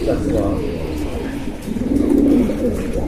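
Prized pigeons cooing in a yard in Azerbaijan, soft low repeated coos rising and falling close by, with a louder stretch midway and people talking in the background.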